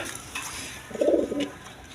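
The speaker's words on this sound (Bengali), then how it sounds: "এক পেয়ার লাহোরি কবুতর আছে দেখেন আপনার রেড কালার লাহোরি কবুতর" Red Lahori pigeons give a brief, low, throaty coo near the middle, close and moderately loud over faint background rustle, with no talking.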